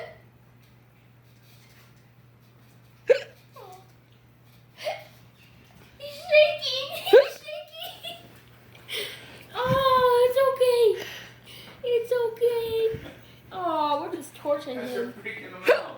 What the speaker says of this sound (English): He's afraid of hiccups.